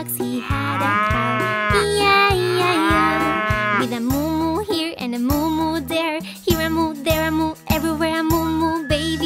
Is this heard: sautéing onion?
no